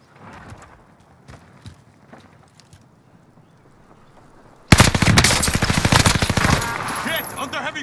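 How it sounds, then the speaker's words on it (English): Gunfire in a final-circle firefight in Call of Duty: Modern Warfare: a few quieter, scattered shots at first, then suddenly a loud, dense burst of rapid automatic fire that continues for several seconds. "Under heavy fire here!"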